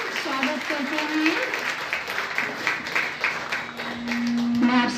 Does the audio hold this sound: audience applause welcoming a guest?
yes